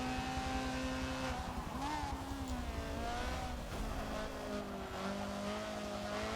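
A Honda CRX racing at night on the Nürburgring GP circuit in the Forza video game, its engine droning steadily with pitch rising and falling through the gears, close and continuous, with a brief slide of the back end.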